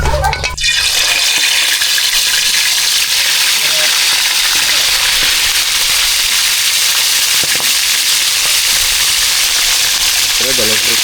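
Fish frying in hot oil, loud and steady, a dense crackling hiss that continues throughout, with a brief voice at the end.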